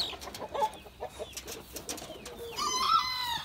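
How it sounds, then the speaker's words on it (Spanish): Hens in a backyard coop making soft broody clucks and low murmuring calls, a few scattered notes nearby followed by a longer drawn-out vocalization near the end, with light rustling around them. "Esta hace ruido como que se quieren culecar"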